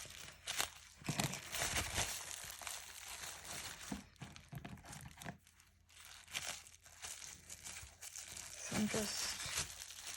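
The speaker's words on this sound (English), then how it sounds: "tearing and ripping as I go, just so it looks more natural than just cutting." Paper is torn and ripped by hand for a mixed media art journal page, making repeated crinkly ripping bursts close up, with a person talking intermittently over them.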